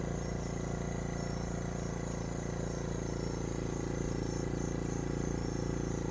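ACEUP 4000W portable inverter generator idling in eco mode at low revs, a steady, even hum with a faint buzzing whine, heard from about 22 feet away and unchanging throughout.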